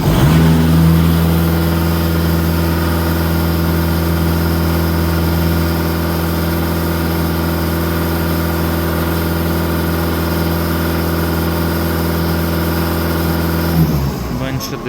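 A Skoda diesel car engine, an Octavia under repair for soot and EGR faults, runs at idle with a loud, steady, even hum. The sound changes briefly near the end.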